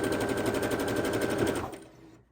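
A sewing machine stitches quilt scrap strips in a fast, even, rapid-fire clatter before slowing and stopping.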